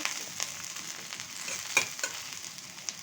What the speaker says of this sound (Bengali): এখন আমি পেঁয়াজ আর মরিচটা ভেজে নিচ্ছি।